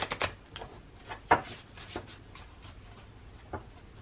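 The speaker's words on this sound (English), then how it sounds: "So now we're going to do a shuffle test and a card pull." A new Necronomicon tarot deck being shuffled by hand, soft papery riffles and taps scattered in a few separate bursts, close and quiet with pauses between.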